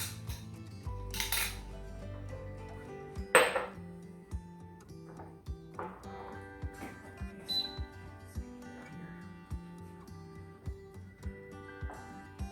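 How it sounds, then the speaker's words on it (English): A Power Pressure XL pressure canner being shifted down while canning potatoes and green beans, heard as a run of metallic clinks, clanks and knocks like pots and utensils, sharp scattered hits over a quiet kitchen background. "I'm gonna bring my canner down a little bit so y'all can see it"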